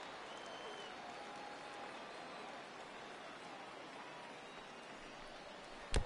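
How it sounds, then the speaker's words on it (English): A steady, dense crowd murmur in a baseball video game fills the whole stretch, a broad wash of stadium noise with a brief louder bump at the very end. "I can hear the crowd murmuring now"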